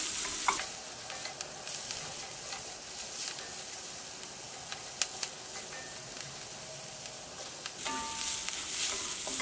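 Turmeric powder frying with sliced onions in oil, a continuous close sizzle with occasional stirring scrapes against the pan, steady and moderately loud.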